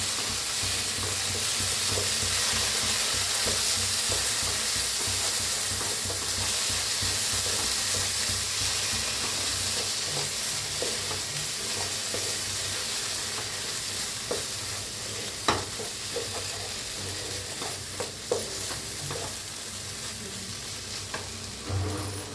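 Masala with turmeric powder frying for a green-paste egg curry, a steady close sizzle running throughout with scattered scrapes and taps of stirring toward the end.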